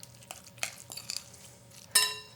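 Crab ravioli filling gets mixed in a bowl, with a spoon clinking and scraping against the side in a few quick, close strokes and one sharper ringing knock at the end.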